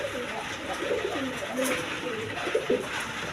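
A pair of Bombay pigeons cooing close by in a loft where they sit on eggs, low throaty coos repeating over steady background hiss.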